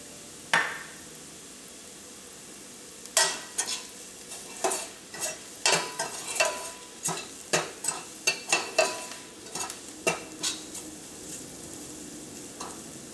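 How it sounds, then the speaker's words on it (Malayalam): Turmeric and chili powder sizzle in hot oil while a utensil repeatedly stirs and scrapes the pan, producing a steady run of short, close, clattering strokes over a soft frying hiss, with no voices. "നമ്മൾ മഞ്ഞൾപ്പൊടി എണ്ണയിൽ കിടന്ന് നന്നായിട്ട് മൊരിഞ്ഞിട്ടുണ്ട്."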